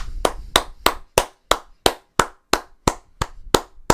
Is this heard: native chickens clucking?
no